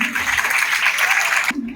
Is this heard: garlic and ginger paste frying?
no